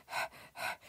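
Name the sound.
panting sound effect from free samples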